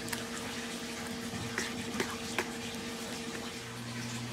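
Water slosh and trickle as a coconut-coir style expanding brick is mixed with about a gallon of water, a steady wet stirring with a few soft splashes over a constant electrical hum.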